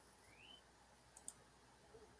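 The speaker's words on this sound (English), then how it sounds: "you save the document and perform a double click" A computer mouse gives a quick double click, two tiny sharp clicks close together over a very quiet background hiss.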